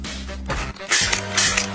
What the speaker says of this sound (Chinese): 我现在把它调成喷雾模式。